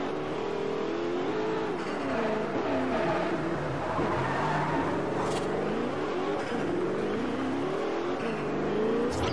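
A car engine revs hard in the racing game Forza Horizon, rising and falling through gear changes with a loud, continuous whine and roar close up.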